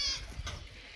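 During milking on a farm with many goats sitting together, a single brief, faint goat bleat sounds against a low background rumble.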